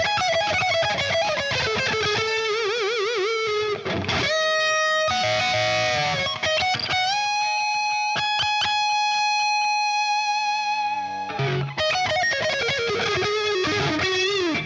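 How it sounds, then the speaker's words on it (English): Sustained electric guitar lead lines on the neck pickup of a $150 beginner guitar, with bends and vibrato, played loud and continuous with a brief pause near the middle, no voices. "Let's see how that neck pickup sounds when we do some lead tones."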